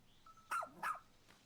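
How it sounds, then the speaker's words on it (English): A rescue pup in the Pikmin 4 video game gives two quick, bright barks in close succession, clear over a faint game background. "I just hear bark bark, though."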